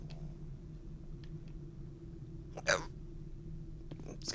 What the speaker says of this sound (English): Excuse me. Stupid hiccups.